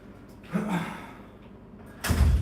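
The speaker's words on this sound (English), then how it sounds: "Let's lock the door." A door is shut and locked indoors before a stretching workout: a soft latch click near the start, then a louder, heavier thud and rattle at the end, close by, with no talk.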